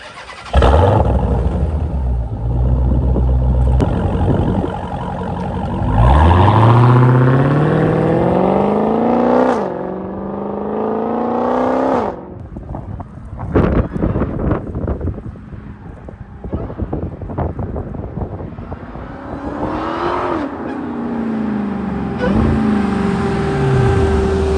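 Stock Dodge Challenger Hellcat Redeye supercharged engine idling after warm-up, a loud low rumble with revving swells and falling pitch sweeps, heard close to the car with wind buffeting the microphone.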